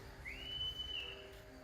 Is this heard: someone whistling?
yes